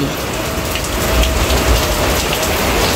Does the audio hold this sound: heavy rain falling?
yes